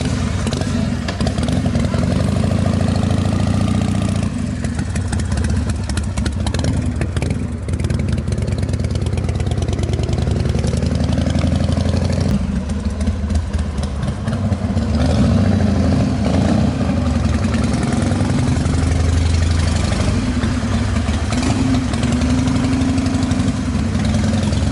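A 1999 Harley Davidson FXR custom motorcycle with a Santee frame runs loud and close, a deep, continuous rumbling idle with uneven lopes and occasional throttle blips over about twenty-five seconds.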